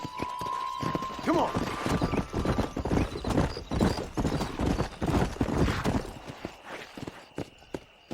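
Horse hooves clip-clopping into a run in the western video game Red Dead Redemption, rapid rhythmic thuds close by with a neigh and a brief spoken line over them.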